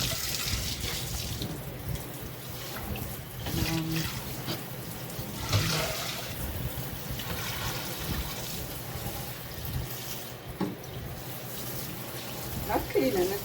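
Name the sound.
water running while cleaning the sink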